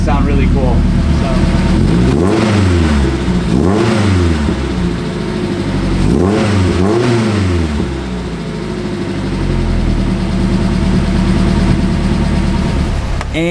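A Mazda NC Miata with a Kobe N-Zero muffler idles with a deep tone, then gives a couple of sharp revs that rise and fall before settling back to a steady, loud idle.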